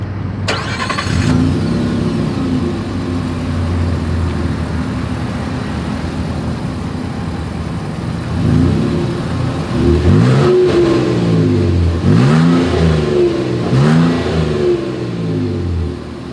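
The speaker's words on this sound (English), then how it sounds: "As always, here is that exhaust clip." A 2022 Nissan Frontier SV pickup truck engine starts, settles into a rumbling idle, then revs hard several times in quick succession, loud and close, heard from the exhaust.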